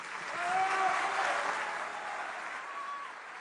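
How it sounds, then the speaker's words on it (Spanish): Audience applause greets a speaker at the Latam Economic Forum 2025, a soft, distant wash of clapping that swells early and then holds steady, with faint voices mixed in. "les pido por favor que lo reciban con un aplauso"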